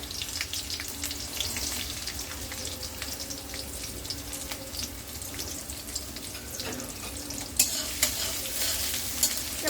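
Chopped onion and small pieces of garlic sizzle and crackle steadily in a pan as they are stirred, with scraping utensil sounds and a brief louder clatter near the end; no one speaks.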